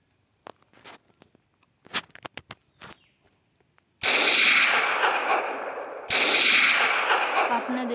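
Guns fire in a Minecraft game, two loud, dense bursts of gunfire arriving abruptly after a stretch of sparse clicks and taps, each burst sustained for a couple of seconds.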